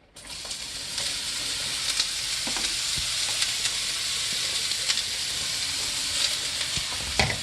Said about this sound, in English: about to saute the vegetables for the bacon asparagus lasagna